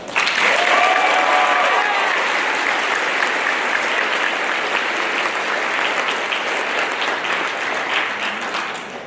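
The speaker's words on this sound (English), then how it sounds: "I would like to ask for a round of applause to show our appreciation towards the teachers and staff" A graduation ceremony audience at Dr. Norman Bethune C.I. gives sustained, dense applause for the teachers and staff. It is loud and steady from the start and eases slightly toward the end, with no one speaking over it.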